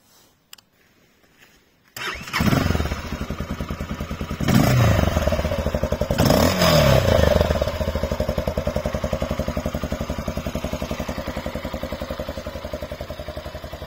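Motorcycle engine cranks and fires after a couple of seconds of quiet handling sounds, blips twice and settles into a steady, close, clattering idle.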